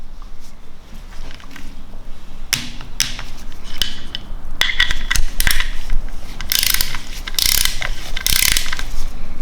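A ratchet clicks in rapid, uneven runs as a bolt is torqued during a BMW N47 diesel timing chain replacement. Between the runs come close metallic taps and knocks, and no one speaks.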